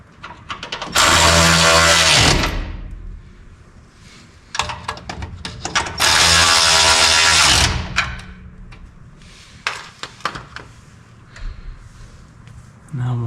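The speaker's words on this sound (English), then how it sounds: "All right, got that tight. I'm gonna tighten this side." A ratchet tightening bolts on a vehicle part, heard as two long loud grinding, clicking runs followed by shorter bursts of clicks, close up in a workshop.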